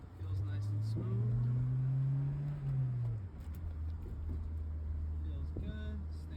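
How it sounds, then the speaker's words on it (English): A Mercedes-Benz engine, running smoothly after a misfire repair, drones steadily from inside the car while driving, with a sustained low tone that shifts pitch slightly as it moves along. "Engine feels good. It's not sputtering on me, so I think the miss is definitely fixed."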